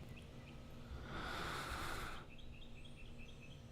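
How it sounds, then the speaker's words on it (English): Birds chirp in quick repeated tweets, faint and somewhat distant, after a brief swell of broad hissing noise. "You hear the birds chirping?"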